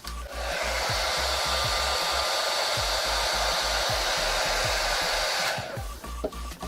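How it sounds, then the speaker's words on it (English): A hair dryer blows steadily at close range with a loud, continuous whoosh, then shuts off near the end, leaving a few faint clicks. "are going to need a blow dryer"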